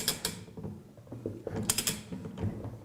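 Ratchet tightening the nut on a Flotronic one-nut pump during a service, giving a series of rapid clicking pawl sounds in short bursts, close up and with no voices.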